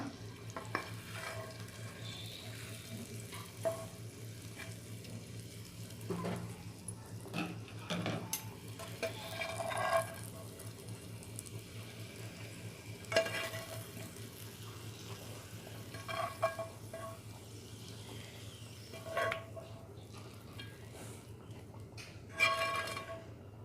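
Eggs are stirred into a frying roasted-coconut masala gravy for Kerala egg curry, a steady close sizzle under continuous scraping and stirring with occasional spoon knocks against the pan, no talk.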